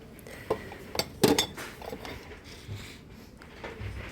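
Glass jars with cork lids, 750 millilitres each, clink together in a few short, sharp knocks, one louder cluster in the middle, with light handling noise between.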